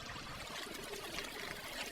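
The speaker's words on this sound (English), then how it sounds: "We've got a full view of the pond and the waterfall" Steady splashing and trickling of a waterfall spilling into a backyard garden pond, a continuous soft wash of water with no voices over it.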